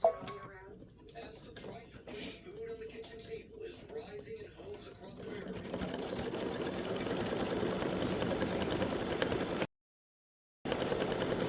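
A sewing machine running a satin stitch on a felt tic tac toe game board, a close steady mechanical whir that hums continuously after brief quieter handling at the start, then cuts out briefly and resumes.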